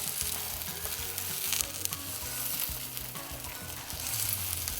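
Beaten egg sizzles and crackles in the hot oiled pot of an Instant Pot while being gently pushed around and scrambled for fried rice, a steady close frying hiss with soft scraping stirs.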